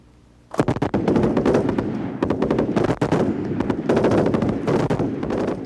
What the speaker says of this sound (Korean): 사격 개시!